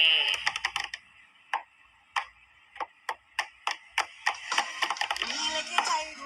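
Typing on a computer keyboard in a classroom, with roughly twenty sharp, irregular key clicks, some in quick bursts and others spaced apart, heard close in a quiet room.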